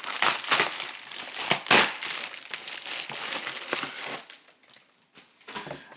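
A switchblade slicing open the plastic shrink-wrap on a boxed NKJV reference Bible, with close, loud crinkling and sharp crackling bursts that thin out toward the end.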